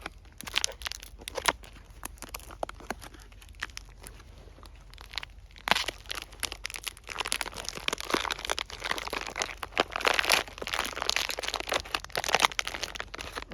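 Crinkling and crunching of a plastic pouch from an American MRE ration, menu 14, as it is opened, with irregular crackles that are sparse at first, then denser and louder bursts in the second half, close up.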